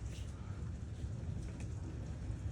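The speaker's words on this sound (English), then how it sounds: "The rain's kind of swirling." Heavy, swirling rain pours steadily during a tornado storm while the street floods, a dense low rumbling wash heard from indoors near a window, with no breaks.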